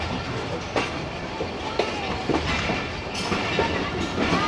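A train rolls along railway tracks near a station on the Khanewal to Faisalabad line, a steady rumble with rhythmic clickety-clack wheel knocks and brief squeals, heard alone at moderate loudness.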